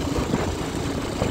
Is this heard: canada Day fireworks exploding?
no